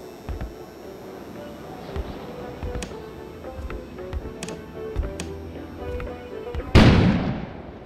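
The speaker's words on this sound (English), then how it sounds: "An explosion suddenly occurred outside." In the video game Kona, scattered thuds and sharp pops sound through the scene, then a sudden loud explosion bursts near the end and rumbles away.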